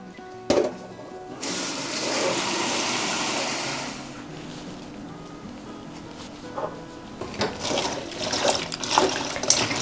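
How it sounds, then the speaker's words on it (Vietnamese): Tap water runs and splashes over cabbage leaves in a kitchen sink, a steady gush lasting a few seconds, followed by quieter dripping and clattering as the leaves are rinsed. No one speaks. "mình sẽ tranh thủ mình rửa luôn bắp cải nha mọi người."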